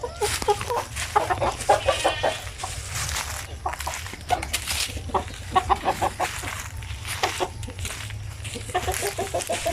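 Basilan chickens clucking and a rooster calling amid a busy farmyard in Mindanao, with a low background hum and people talking in the background.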